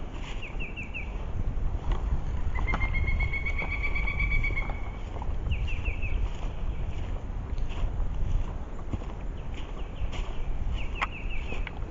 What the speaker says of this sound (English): Hopefully my camera's picking up the sounds of the birds